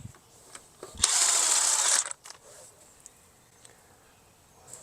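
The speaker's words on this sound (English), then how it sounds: "now we can continue to remove the bolts" A power tool spins off a brake caliper bolt on a VW Jetta with Brembo brakes, one loud whirring burst of about a second, followed by faint clinks and tool handling.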